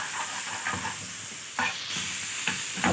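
Garlic sautéing in a pan, a steady close sizzle broken by a few scraping stirs at intervals, without talk.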